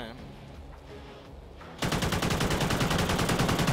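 Automatic gunfire in a first-person shooter's search and destroy match on the Freight map, starting abruptly after a quieter stretch and continuing as a rapid, loud, rhythmic burst.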